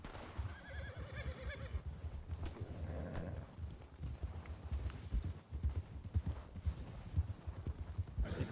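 Horse sounds from the Western roleplay game Lawless RP: a whinny and steady clip-clopping hooves over a dense, continuous game soundscape with low rumbling, close and moderately loud throughout.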